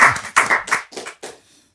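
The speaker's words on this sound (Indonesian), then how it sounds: "dan tepuk tangan buat Kiai Haji Imad" A handful of people in a small studio audience clap briefly for an arriving guest on an Indonesian talk show, a few close, sharp bursts that quickly fade to silence.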